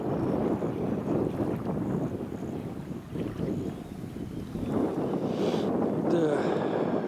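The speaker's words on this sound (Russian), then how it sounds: "Не везет прям с этим ветром никак." Strong gusty wind buffets the microphone during a river fishing outing on the Oka, a continuous rumbling roar that dips briefly midway and then swells again, with no talking.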